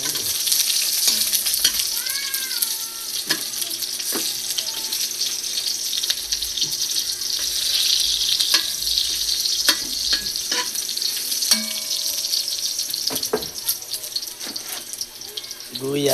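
Garlic frying in a pan and being stirred: a steady, close hiss of sizzling oil with scattered scraping and tapping from the utensil throughout, and a faint voice briefly in the background.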